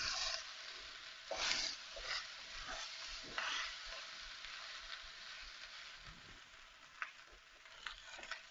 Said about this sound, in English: Just mix that nicely together.